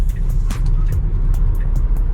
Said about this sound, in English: Got some wheel spin on that one.